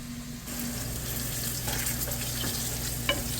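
Walleye fillet coated in mustard batter frying in a hot pan, a loud continuous sizzle that jumps in abruptly at the start and holds steady close up, with a small clack near the end; no voices.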